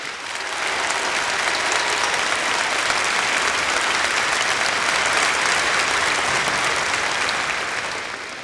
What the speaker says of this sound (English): I ask everyone here today to give these graduates a very special round of applause